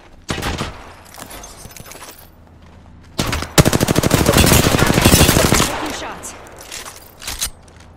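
Automatic gunfire in the shooter game Apex Legends comes in loud bursts: a few scattered shots, then a long rapid rattling volley and some trailing shots, all close and forceful.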